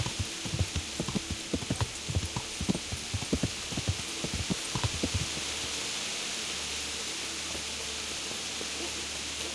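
Horse hooves clip-clopping in the medieval video game Kingdom Come: Deliverance, a run of close, distinct hoof beats at a walking pace. Partway through they stop and give way to a steady hissing, fan-like background.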